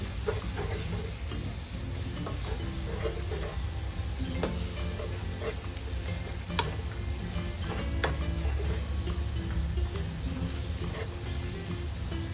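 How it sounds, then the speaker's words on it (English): Sausage sizzles steadily in a skillet as flour is stirred in for gravy, a dense continuous hiss broken by sharp scraping clicks of the utensil against the pan, with no talking. "You're going to mix your flour in."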